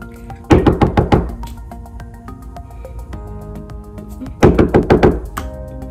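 Two bursts of firm knocking on a door, each a quick series of about five solid thuds, separated by a few seconds of quiet with a faint lingering hum.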